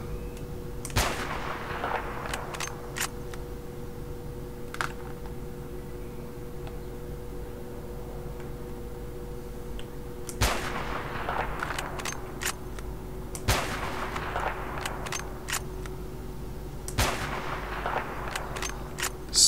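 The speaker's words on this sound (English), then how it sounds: "This gun is pretty nice." Rifle gunfire in a first-person shooter game with the New Arsenal 5.1 mod, loud sharp shots in bursts and single cracks with echoing tails, spread across the stretch over a faint steady hum.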